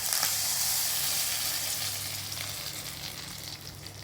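Mustard seeds tempering in hot oil, part of a chickpea curry, give a continuous bright, crackling sizzle up close, holding steady and easing slightly toward the end.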